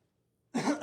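A single cough bursts out loud and close after a moment of near silence, rough and throaty, with no talk around it.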